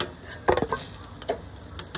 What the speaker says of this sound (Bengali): এক ব্যাচ করে ভাজবো আর একটু ঠান্ডা করে রসে ডুবিয়ে তুলে নেব